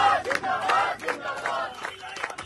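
Crowd of protesters packed around a hunger strike site at a youth demonstration in Patna, a loud, continuous mass of shouting voices with rising and falling chant-like bursts.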